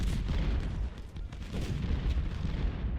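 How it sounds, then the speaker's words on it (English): Civil War cannons fire in Ultimate General: Civil War at the Battle of Perryville, a low, rolling series of booms and rumbling artillery blasts, moderately loud and continuous without any voices. "Those cannons just blasting right into the flank of Adams."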